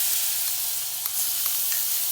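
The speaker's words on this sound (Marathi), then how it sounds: "फोडणीत आता आपण बारीक केलेला कांदा आहे तो घालायचा आहे" Chopped onion fries in hot oil with a bright, continuous sizzle and a few faint clicks as it is stirred.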